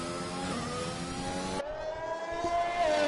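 Racing car engine in a video-game Alpine on a flying lap, a steady high harmonic whine that shifts pitch abruptly mid-way as the car changes gear, loud and continuous with no talk.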